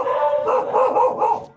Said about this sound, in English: Now, Sal barks